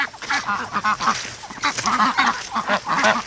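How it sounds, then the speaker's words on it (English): A startled duck quacks repeatedly in a rapid, loud series close by while ducklings are being hatched and ducks head to the swamp, a steady run of harsh calls. "Doug, you just startled that poor duck"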